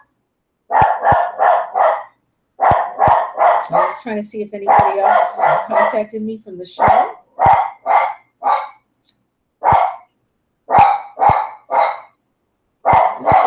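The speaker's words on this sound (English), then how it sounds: "That's my puppy." A puppy barks in loud, close, rapid bursts, often several yaps in quick succession with short pauses between, while a person talks briefly in the middle.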